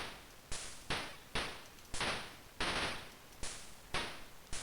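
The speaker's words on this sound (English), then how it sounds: "I like the popping sound effects." Popping sound effects from the Intellivision game Astrosmash, a run of sharp bursts roughly every half second, each fading quickly, on a faint steady background hiss.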